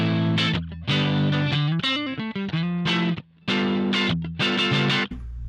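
Distorted electric guitar played through a Quilter amp into a closed-back cabinet with V30 speakers, reverb off, giving dry chords and a quick run of picked notes with abrupt stops and short gaps between phrases.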